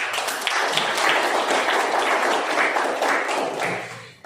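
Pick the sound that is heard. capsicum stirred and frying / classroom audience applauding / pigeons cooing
classroom audience applauding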